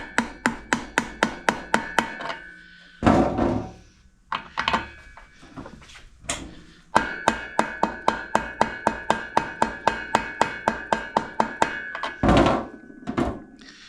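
A drift is tapped against a motorcycle part on a Stella rebuild, landing as a long run of sharp, evenly spaced metallic knocks that pause twice for short scraping handling sounds before the steady hammering picks up again.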